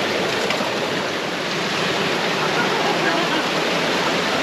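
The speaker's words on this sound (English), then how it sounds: "A river runs through it?" A river flows through a desert canyon near the Panamint City ghost town in the Mojave Desert, giving a close, steady broadband rush of water with no pauses.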